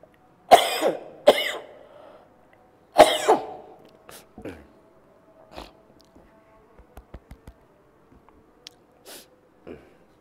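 Several sharp coughs near the mic, two quick ones then another, followed by quieter throat clearing, small clicks and breaths in an otherwise quiet room.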